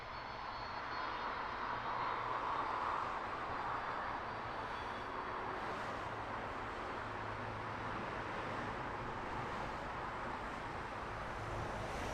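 A Boeing 787 airliner arriving at Heathrow from Mumbai, heard as a steady distant jet engine roar that swells slightly and then holds as a constant broad drone.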